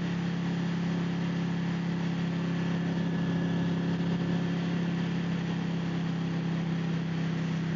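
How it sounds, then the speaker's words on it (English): A 2014 Ducati 899 Panigale sport motorcycle engine rumbles steadily at idle with a deep, even exhaust drone, close and continuous throughout. "I love the note, the exhaust note and the motor sound on this bike."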